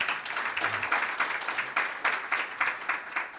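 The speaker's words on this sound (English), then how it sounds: "you can give them a round of applause" Steady audience applause at a conference session on smallholder farmers, a dense, even wash of many hands clapping that carries on for several seconds without a break.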